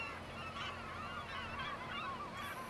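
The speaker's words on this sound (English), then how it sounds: "Bloody seagulls." Seagulls call over a freshly ripped-up farm field, a steady chorus of overlapping squawks and cries at middle distance over a constant low engine hum, with no talking.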